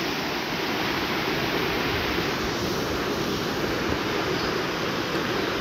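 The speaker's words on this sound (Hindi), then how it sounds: "अगर इसमें हाथी भी अगर चला जाएगा तो वो बह जाएगा, इतना तेज पानी है ये" Fast, swollen flood water of the Deva river rushes past in a steady, loud broadband roar, continuous and close, with no voices over it.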